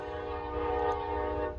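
A passing train blares its horn in one sustained, loud, chordlike blast, steady for the whole moment with rumbling underneath.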